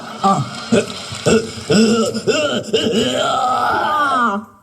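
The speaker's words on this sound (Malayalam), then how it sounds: "ദൈ അലവലാതി കിടന്ന് ഏമ്പക്കം വിട്ടതാണ്" A man belches loudly at close range in a string of short, throaty burps followed by a longer, groaning, drawn-out belch.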